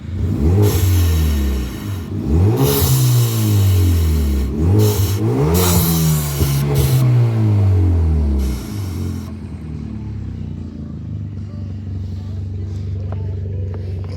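A car engine revs up and down repeatedly, rising and falling in pitch with a loud throaty rumble, then settles back to idle.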